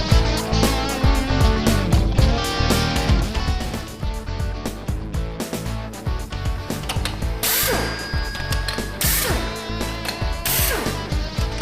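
Hytorc J-gun hydraulic torque wrench ratcheting, a loud rapid series of metallic clicks and clacks repeating in fast bursts with brief pauses, heard up close with a mechanical hum beneath.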